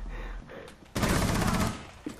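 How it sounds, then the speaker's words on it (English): Rapid gunfire in a video game, a dense burst of shots lasting about a second after some quieter game noise, loud and close. "What the fuck is he shooting at?"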